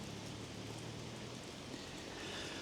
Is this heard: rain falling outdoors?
yes